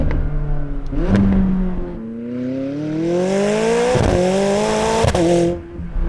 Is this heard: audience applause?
no